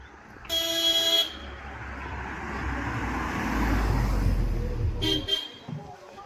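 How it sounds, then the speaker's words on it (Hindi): A vehicle approaches on a hill road in the Kingodi Khal market area of Uttarakhand, sounding a long horn toot, then a growing engine and tyre rumble as it nears, with another short toot before it passes. "रोड से साइड हो जाइए, गाड़ी आ रही है।"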